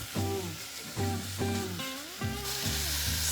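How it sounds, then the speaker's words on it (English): Beef cooks in Thai green curry chili paste with a steady hiss of sizzling under strong, gliding tonal sounds. Faint stirring scrapes come in bursts roughly every half second. "When the chili paste start to cook, we're going to add the beef. And then keep stirring."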